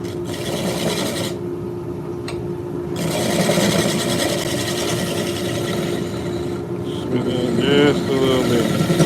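A negative rake scraper cuts an oak burl spinning on a lathe, giving a steady, close whirring rasp that drops out briefly and then resumes. A voice speaks briefly over it.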